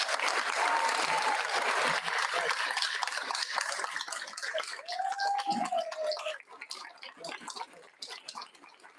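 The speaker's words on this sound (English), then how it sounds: "So let's give him a round of applause." A room at a board meeting breaks into applause, a dense clatter of many hands that thins out toward the end while someone speaks over it.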